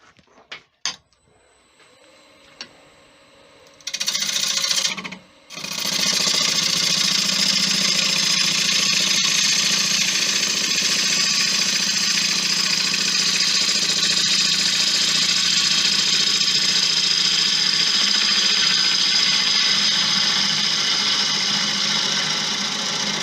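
A wood lathe spins up with a tamarind bowl blank after a few faint knocks, then settles into a steady, fairly loud motor hum and whir that carries on alone.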